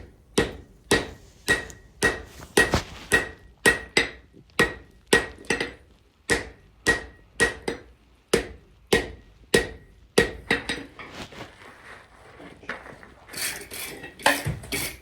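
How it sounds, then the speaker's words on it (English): Lighter hammer taps on a hot forge weld for a scrolled steel candle holder ring out as crisp metallic strikes, about two per second and fairly close, followed by scraping and a brief gap before a few more blows. "the first welding heat, just giving it like a few lighter taps"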